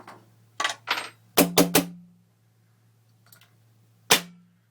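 A new Empire Axe paintball marker firing during chronograph testing, several sharp pneumatic pops, some in a quick triple burst, with quiet gaps between and a faint hum underneath.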